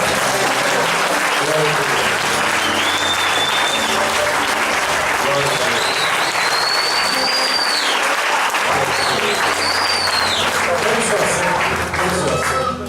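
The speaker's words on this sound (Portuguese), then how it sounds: "Aplauda o Senhor bem forte." Church congregation applauding loudly and continuously in a reverberant hall, a dense sustained wall of claps with voices shouting and cheering through it for the whole stretch.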